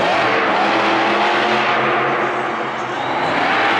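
Monster truck engine revving during a freestyle run in a stadium, a loud, continuous roar with crowd noise mixed in, steady and close throughout.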